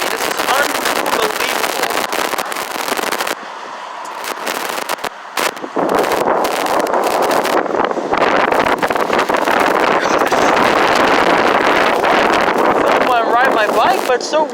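Strong gusting wind batters the microphone during Hurricane Sally on a flooded road at Santa Rosa Beach, Florida, a loud buffeting roar that continues nearly throughout with brief lulls, while a person talks.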